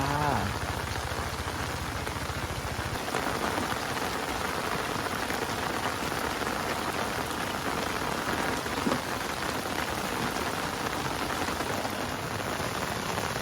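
Rain pours steadily beside a riverbank fishing spot, a dense, even hiss of drops hitting the surface that holds unchanged throughout.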